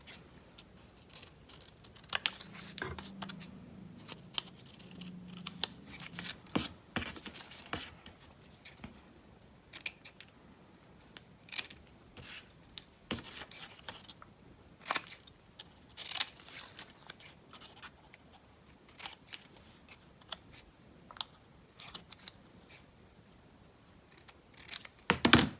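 Scissors snip and trim a paper card Santa ornament, a steady run of short crisp cuts with light paper rustling and crinkling, close up and fairly quiet, with no talking.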